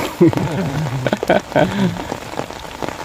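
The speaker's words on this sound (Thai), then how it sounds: "บรรยากาศฝนตกสดชื่นขนาดครับพี่น้องครับ" Steady rain patters on a surface while someone talks over it, his voice close and louder than the hiss of falling water.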